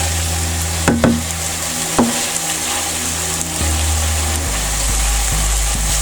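Masala mutton chops fry in a pan with a steady, close sizzle, broken by a few sharp knocks and scrapes of stirring, while a low hum runs underneath.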